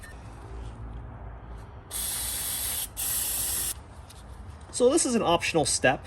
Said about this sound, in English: give it a shot with some brake cleaner to rinse all the contamination away